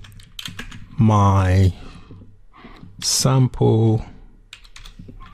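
Computer keyboard keys clack in light, quick bursts while someone types HTML code, close by and interleaved with someone speaking.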